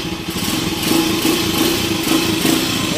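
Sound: engine running smoothly after oil pump overhaul

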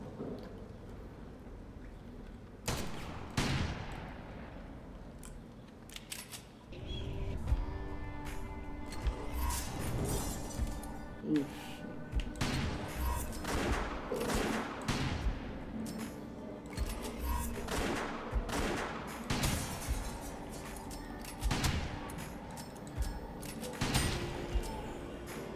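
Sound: long pistol gunshots in the video game West to Dead

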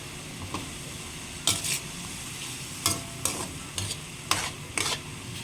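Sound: stirring string bean adobo after adding vinegar

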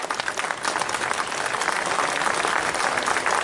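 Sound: audience applause for a youth orchestra

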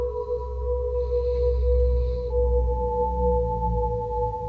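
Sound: modular synth resynthesized sine waves with reverb

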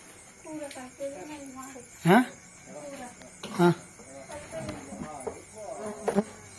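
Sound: insects swarming at night after rain

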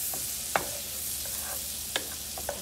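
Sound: stirring and melting ingredients in a pan

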